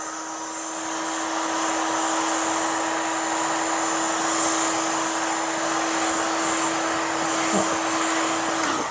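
A hot air blower roars steadily while heating the outside of a refrigerator, a loud continuous whooshing hum with a constant motor whine, no speech.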